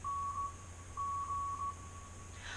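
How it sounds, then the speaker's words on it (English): Faint, steady electronic beeps in short and long bursts, like Morse code, sound over a low constant hum. "the Morse code you hear is Morse code for TXT"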